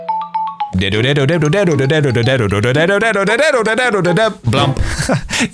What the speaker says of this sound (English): Luigi's phone having the GameCube ringtone.